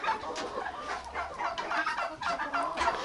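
Six-month-old hens cluck in a series of short, overlapping calls at moderate distance, the sound of a small flock settling into a Ukrainian village coop.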